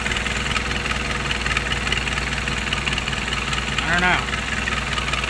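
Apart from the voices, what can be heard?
motor engine running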